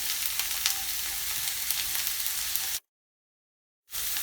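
Diced onion frying in oil for a meat pie filling gives a steady, loud broadband sizzle for nearly three seconds, then cuts to silence for about a second before the sizzle returns.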